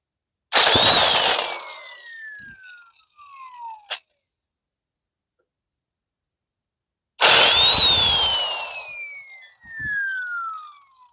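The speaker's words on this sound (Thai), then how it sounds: "แรง อยู่นะครับบล็อกตัวนี้ตัวสีเหลืองนี่ ความแรงถือว่าใช้ได้เลย" A yellow impact wrench hammers loudly while removing a track from a rice harvester, two long screeching bursts with falling pitch separated by a short pause, close and dominant with no talk.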